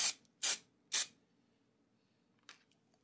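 Spray paint cans sprayed onto an art journal page: three quick close hisses in steady succession, then a pause and one softer short burst.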